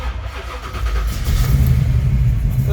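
The mild small-block engine of a 1971 Camaro starts up and settles into a loud, rumbling idle that builds in strength over a few seconds. Close and dominant, with no talk.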